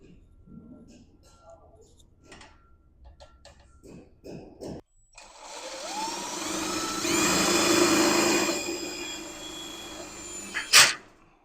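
A power drill drives self-tapping screws into a metal stud bracket, revving in a loud sustained whine that builds and holds for several seconds. Brief handling knocks and rustles come before it, and a sharp clank ends it.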